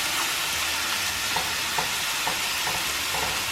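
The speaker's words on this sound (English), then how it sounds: "Ground beef just finished cooking." Ground beef frying in a pan makes a steady loud sizzle, with a spoon or spatula scraping and stirring through it at a regular rhythm.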